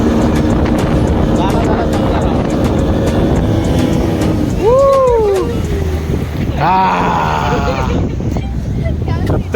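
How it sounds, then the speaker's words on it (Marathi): A speedboat runs out on the sea off Gorai beach, its engine drone and rushing wind and water loud and constant throughout, with voices and excited calls over it. "मस्त स्पीड बोटची राईड करून आलो"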